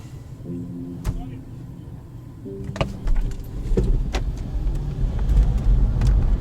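A BMW i3 electric car at a race start in Lviv, a low motor hum building as it pulls away, with clicks and knocks early on and a voice talking nearby.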